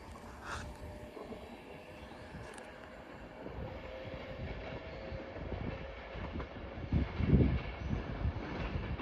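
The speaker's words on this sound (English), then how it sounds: "The train now arriving into platform 3 is the 1627 Avanti West Coast service to Preston" An Avanti West Coast train rolls into a station platform, a low rumbling rail noise with faint squeals and a louder clanking burst near the end, heard at moderate distance without talk.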